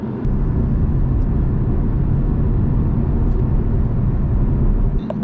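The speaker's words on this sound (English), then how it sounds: "Not quite as good as a flat six, but it's still a nice sounding motor." A Porsche Cayman 718's four-cylinder engine runs in a steady, loud, continuous drone with a deep rumble, heard close throughout with no talking.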